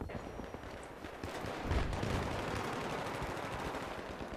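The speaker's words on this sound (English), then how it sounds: "Don't know who's shooting from where." Battlefield 3 combat at Strike at Karkand, with rapid bursts of automatic gunfire and scattered shots blending into a dense, moderately distant roar of battle.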